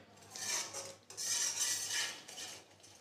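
Turmeric is stirred into a green sandwich filling in a pan, with close, busy scraping and clinking of a utensil against the pan in two long bursts and a short pause between them.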